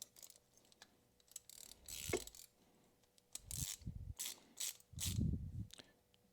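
Socket wrench tightening a lock nut onto a modified water pump valve, heard as several close bursts of metallic ratcheting clicks separated by short pauses, with no talking.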